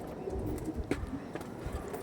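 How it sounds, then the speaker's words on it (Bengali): Purebred tournament-winning pigeons coo softly in a low, repeated murmur over a steady background hum, with one slightly louder coo near the middle. "খুব সুন্দর কোয়ালিটির পায়রা"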